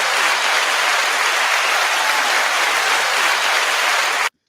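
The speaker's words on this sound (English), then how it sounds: "Round of applause" Steady, dense audience applause fills the room at a live show, loud and continuous for about four seconds before stopping abruptly.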